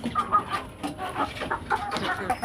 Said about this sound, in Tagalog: Yan, inaaway na sila ng babaeng manok.